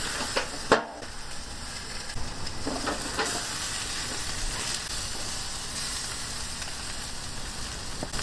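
Shish kebabs sizzle over medium heat with a steady, even hiss, while a few soft clicks and scrapes near the start mark them being turned over.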